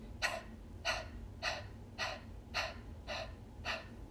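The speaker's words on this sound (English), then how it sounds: "Now we'll do a few quick exhales, but each time we're feeling our belly go in" Seven quick, forceful breaths pushed out through the nose or mouth at a steady, even rhythm, close and clear during a belly-focused breathing exercise.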